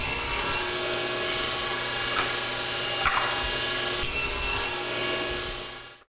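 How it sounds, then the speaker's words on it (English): Table saw blade cutting shallow dados in wooden side pieces for small storage boxes, a steady loud whining rasp that runs almost continuously for about six seconds, with brief surges as wood feeds through, then cuts off. "I prefer to cut narrow dados with a saw blade rather than going to the trouble of"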